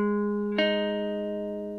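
A guitar plays notes of a riff, sustained ringing tones, with a fresh note plucked partway through that rings on and slowly fades, close and clean without any talking.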